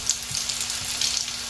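Tuna patties frying in hot oil give a steady, fairly close broadband sizzle with small crackling pops throughout and no voices.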